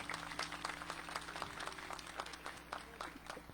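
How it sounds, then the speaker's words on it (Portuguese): A church congregation claps during a Palm Sunday Mass to welcome a child, soft scattered applause heard from some distance over a steady low hum. "Uma salva de palmas."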